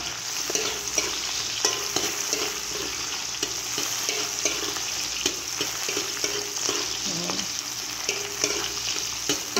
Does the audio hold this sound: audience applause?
no